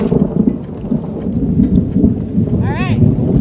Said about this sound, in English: All right, thundering again.